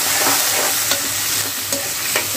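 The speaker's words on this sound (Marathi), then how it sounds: "छान असं आपण हलवून घेऊया कांद्याला कलर येईपर्यंत" Onions being stirred and fried in a pan for a mixed vegetable curry, a dense close sizzle with three or four rhythmic spatula scrapes, loud and steady without speech.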